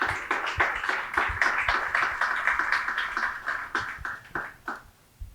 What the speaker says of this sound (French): Sous vos applaudissements, Dr. Visionnaire Desmiro